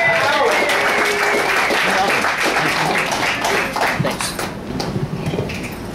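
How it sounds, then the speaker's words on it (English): An audience at a café open mic, on its one-year anniversary night, applauds the first comic of the evening. The dense, loud clapping runs for several seconds, thinning toward the end as a voice begins to come through. "Please give a warm round of applause for Mr."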